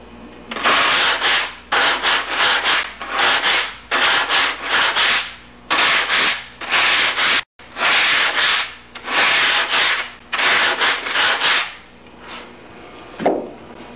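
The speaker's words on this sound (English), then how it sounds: "you can barely see where the surface has been sanded away" An aircraft canard surface is sanded by hand in steady back-and-forth strokes. The rasping passes come in a loud, even rhythm with a brief break halfway through, and no one talks.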